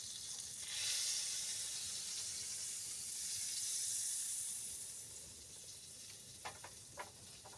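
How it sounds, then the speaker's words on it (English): Soft, quiet sizzle of butter in a pan on a wood stove at a freezing-weather campsite, a faint continuous hiss with a few small clicks near the end. "Can you hear that sizzling? The butter?"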